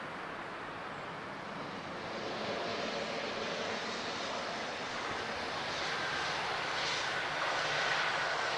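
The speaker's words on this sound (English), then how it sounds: "Looking at an Embraer E190" A TAP Express Embraer E190 jet arriving at Lisbon Airport from Seville gives off a broad, steady engine roar that swells slowly as it nears, heard from a moderate distance with light wind noise.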